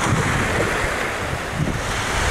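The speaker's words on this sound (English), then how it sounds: "As you can hear, I'm at the beach" Ocean waves wash onto a beach under gusting wind, a dense, loud roar of surf and breeze buffeting the microphone continuously with no voices.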